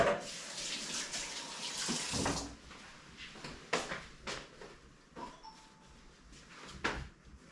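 Tap water runs while food is rinsed in a kitchen, a broad steady rush that stops and starts with a few sharp knocks and clatters as the pieces are handled, fairly close, with no talk.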